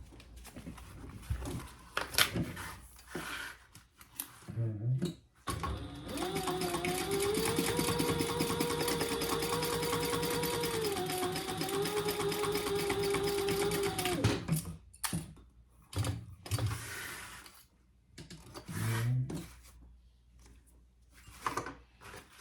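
A sewing machine runs at steady speed for several seconds, stitching a zipper onto a fabric pouch, with a humming motor and rapid needle pulse, set between shorter bursts of handling and stops.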